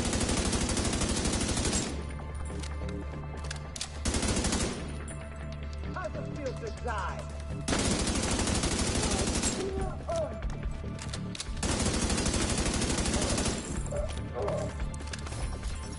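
Video game gunfire comes in dense, repeated loud volleys of rapid shots, separated by short quieter gaps, with someone talking in between.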